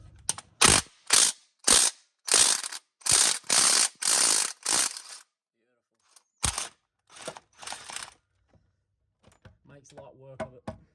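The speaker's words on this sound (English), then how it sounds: "so let's see if the Ugga Dugga gets this one." An impact wrench hammers at a bolt on the engine cross member of a Ford BF XR6 Barra in a home shed, firing several loud rapid bursts in a row, then a few shorter ones and mechanical clatter.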